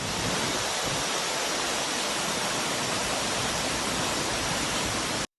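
Floodwater pours over the Courtallam falls after two days of rain, a loud, steady broadband roar of rushing water that holds unbroken throughout and then cuts off abruptly at the end.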